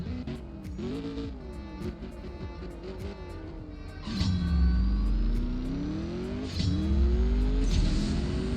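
Engine revving in CSR Racing 2 during a dyno test run, rising in pitch through the gears with shifts, growing louder with a surge near the middle and another shift late, music-like tones in the background.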